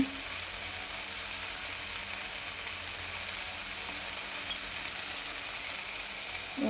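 Cumin and coriander powder fry with spices in a pan, a steady faint hissing sizzle that holds evenly throughout with a soft clink near the end and no talk.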